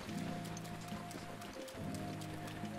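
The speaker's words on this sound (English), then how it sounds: "It's supposed to stop raining here pretty soon." Rain falls in The Legend of Zelda: Breath of the Wild, a steady soft patter with faint running movement, quiet and continuous, with no talking.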